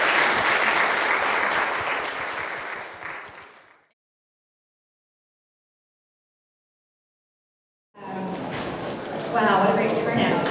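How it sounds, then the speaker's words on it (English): An audience applauds after a panel session at a Detroit community event, the clapping loud at first and then fading to silence, before a second burst of clapping and crowd noise resumes. "let's make sure to clap it up for this first session here"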